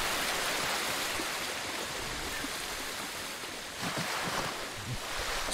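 Steady, dense rushing and splashing as a character runs through water in Ghost of Tsushima on PS5, loud and continuous with slight swells, no voices.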